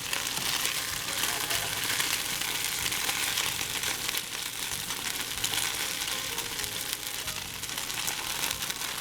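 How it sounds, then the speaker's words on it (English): Danish fish cakes (fiskefrikadeller) frying in a pan, a steady loud close sizzle with crackling spatter that runs continuously. "We want to cook them for a couple of minutes on each side."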